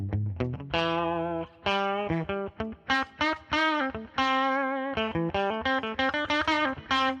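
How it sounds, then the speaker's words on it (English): An electric guitar runs through an effects unit with distortion and chorus, playing quick melodic phrases with sustained notes and short gaps, loud and up close with no talking. "Can you hear the guitar?"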